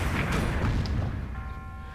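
A deep, rumbling bomb explosion in The Legend of Zelda: Breath of the Wild booms and then fades out, leaving a faint electronic hum behind it.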